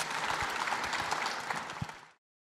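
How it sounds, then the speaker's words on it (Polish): A conference audience bursts into dense, sustained applause after a talk, many hands clapping together at close range before it cuts off abruptly. "Brawa dla Pawła."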